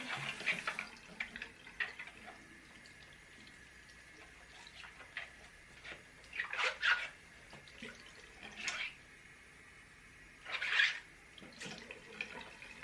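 A makeup brush is rinsed under a running tap over a sink, quiet trickling water with a few louder splashing bursts as the brush moves through the stream.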